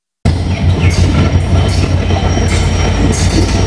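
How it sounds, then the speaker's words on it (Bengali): A train from Dhaka arrives at a station platform, its loud, close rumble starting abruptly and rolling on steadily, with rhythmic clatter of wheels and occasional high squeals from the rails. "এই দিক থেকে ঢাকা থেকে আরেকটা ট্রেন আসলো।"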